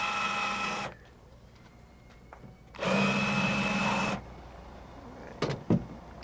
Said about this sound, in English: I'm going to go ahead and countersink the rest of these.